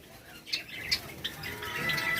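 White Java sparrows in a breeding colony give a few short, faint squawks and chirps over a quiet background, with light wing flutter near the end.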